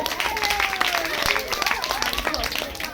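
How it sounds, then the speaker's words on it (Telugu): An audience at a Telugu Christian skit event in Mounjipadu applauds. Dense clapping continues throughout, mixed with crowd noise and a sliding whistle-like tone, with voices faintly underneath. "సునీల్కి గట్టిగా చప్పట్లు కొట్టండి"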